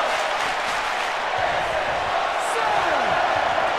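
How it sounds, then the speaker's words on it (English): Wrestling video game crowd noise, a dense steady roar of a large arena audience filling the whole stretch, with a faint rising whoop near the end and soft thuds underneath. "And the crowd chanting, this is awesome."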